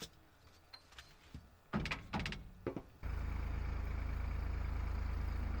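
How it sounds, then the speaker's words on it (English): A loader's engine rumbles to life after a few thunks and clatters of climbing aboard, then settles into a loud, steady, continuous idle close by. "I fired up the loader and got to work"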